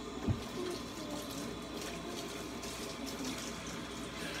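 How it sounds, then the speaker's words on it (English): Water runs steadily from a tap as something is rinsed off, a soft, fairly quiet continuous hiss and trickle with a brief knock near the start and no talking. "rinse this off"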